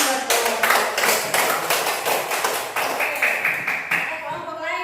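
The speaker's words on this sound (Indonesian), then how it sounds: "Tepuk tangan buat kelompok." A group of people clapping for a classroom group presentation, steady fairly loud rhythmic claps running throughout with a faint voice near the end.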